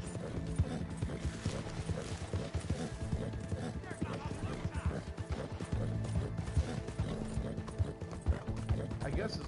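Rhythmic hoof clip-clop of a galloping horse in Red Dead Redemption 2, steady and continuous throughout with mechanical rattles, a brief whinny, and game background sounds, moderately quiet.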